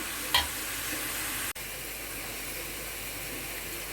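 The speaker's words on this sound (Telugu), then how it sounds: "ఈ ఉల్లిపాయలు సరిపడా వేసుకోండి ముక్కలు సరిపడా నేను వేసేసాను ఇలా మధ్య మధ్యలో తిప్పుకుంటూ దగ్గరుండి వేసుకోండి" Chopped onions sizzle steadily in hot oil in a pan for a tamarind fish curry. There is a brief scrape of stirring near the start, then a continuous close hiss and crackle with a momentary drop partway through.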